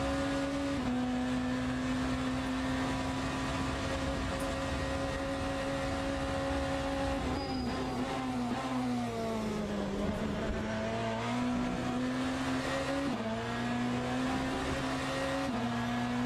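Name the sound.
BMW hypercar lapping Imola in Le Mans Ultimate video game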